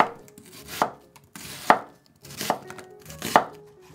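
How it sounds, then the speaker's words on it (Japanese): Half an onion being thinly sliced with a knife on a cutting board: four crisp, evenly spaced chops close up, each with a short sliding cut before it, with no talking. "芯を取り薄切りにします。"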